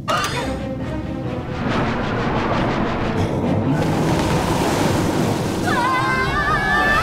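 Cartoon submarine's bubble engine reversing, giving a continuous loud rushing, bubbling water wash that swells after the start, with a brief whistling tone near the end.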